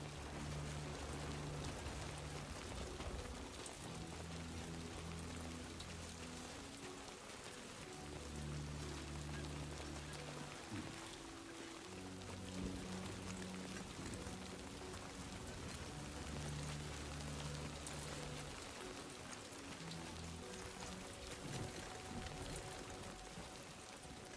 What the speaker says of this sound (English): the rain sounds so good